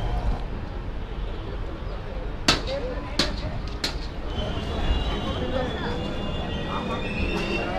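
The Saraighat Express rolling into Bardhaman station, heard from on board: a steady rumbling ride with several sharp metallic clanks in succession and a thin wheel squeal drawn out near the end.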